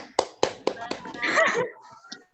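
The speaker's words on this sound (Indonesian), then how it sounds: "Tepuk tangan dulu." A class of children clapping hands in a classroom: a few sharp, separate claps at first, then a brief burst of mixed clapping, with children's voices chattering over it.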